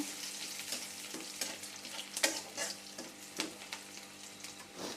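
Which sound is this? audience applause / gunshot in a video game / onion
onion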